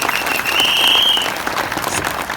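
A stage audience at a sales earners' event breaks into loud, dense clapping that holds steady for a couple of seconds.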